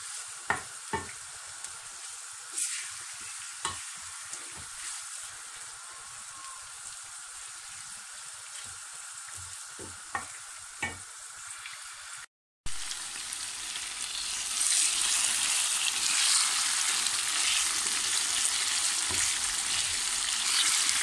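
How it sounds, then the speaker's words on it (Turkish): Tomato paste and minced meat fry in a pan with a quiet, even hiss, a few scraping stirs early on, then the sizzle grows louder and brighter after a brief cut. "Salçanın güzelce kavrulması lazım. Etle birlikte kıymayla."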